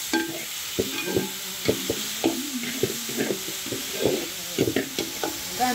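Finely chopped onions and three chopped tomatoes stirred and sautéing in hot oil for a vegetarian kurma, with a steady sizzle under repeated scraping and stirring knocks of a spoon against the pan.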